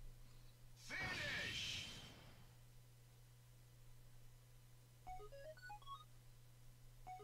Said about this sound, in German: Schon wieder SMS.